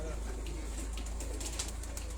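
A pomestic pigeon on a rooftop coos softly against a steady low hum, with scattered faint chirps and rustles, fairly quiet and close.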